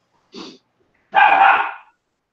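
A dog gives two barks close to the microphone, a short first one and then a longer, louder one, with silence around them.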